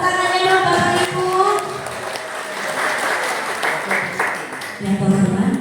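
Audience applause at an Olylife Indonesia gathering with athletes in Pringsewu, Lampung, a broad wash of clapping lasting throughout, surging again near the end, with a voice over a PA partly heard above it.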